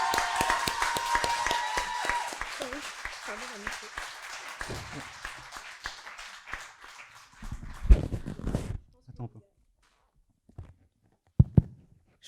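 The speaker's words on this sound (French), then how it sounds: "Alors je pense qu'on peut l'accueillir avec un tonnerre d'applaudissements" Audience applause and cheering welcome a speaker onto the stage at an eloquence contest evening, a dense burst of clapping for about eight seconds before it fades into scattered claps and a few brief voices.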